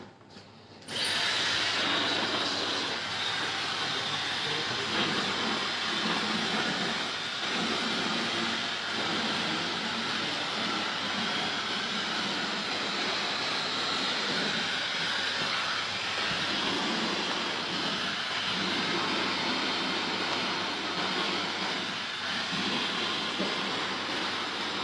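A hair dryer blows steadily during a hairdressing training session as hair is styled, giving a loud, continuous airy rush that starts abruptly about a second in and holds unbroken to the end.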